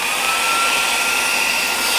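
Wind Gallop U10 Ultra portable air pump running in deflate mode, held against a clothes storage bag valve, giving a loud, steady motor whir with airy hiss throughout.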